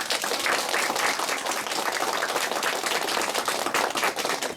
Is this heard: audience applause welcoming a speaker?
yes